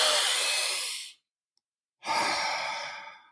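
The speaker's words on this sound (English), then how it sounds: "warrior breathing is a sharp, long inhale through the nose and a soft exhale through the mouth like this." Two breaths of a warrior breathing pattern, close and loud: a long, sharp, hissing inhale through the nose, a second of silence, then a long, soft, airy exhale through the mouth.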